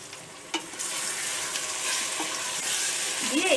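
Potatoes, green chilies and turmeric fry in a pan with a loud continuous sizzle, a spoon scraping and stirring through them at close range with occasional clinks.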